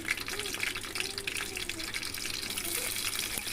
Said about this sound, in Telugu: నూనె ఇలా బాగా వేడయ్యాక ఇందులో కట్ చేసుకున్న మిర్చి